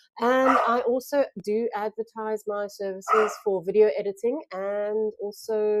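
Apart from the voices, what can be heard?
dogs playing and barking in the background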